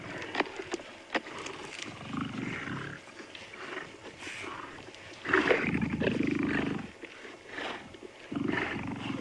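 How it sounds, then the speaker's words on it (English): Lions roar in a wild savanna setting, with a ginger male among them, giving repeated deep, rumbling roars that swell and fade in bouts at moderate distance. "which of the two lions is making the most noise"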